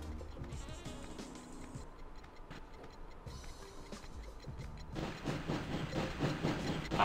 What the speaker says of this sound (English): Hurry up, Sam, you're gonna get run over by a train